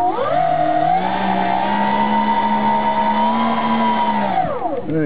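Electric motors on a Styro FSK RC B-25 Mitchell model run on the ground at part throttle with a loud, steady whine. The pitch holds level, then drops and wobbles away near the end.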